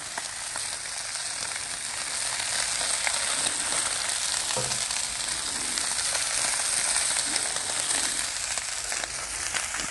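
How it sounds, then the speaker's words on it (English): Butter melting on a hot Blackstone griddle beside ribeye steaks gives a steady, close sizzle that holds evenly, with a light crackle running through it and no voices. "because it's still hot on this side, this butter is gonna melt for me"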